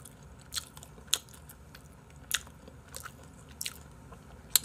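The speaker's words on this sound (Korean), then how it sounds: "방송 중에 건어물 금지야. 씹는 데 집중하니까" Someone chews a dried seafood snack close by, with sporadic sharp crunches and bites spaced a second or so apart over a quiet room background.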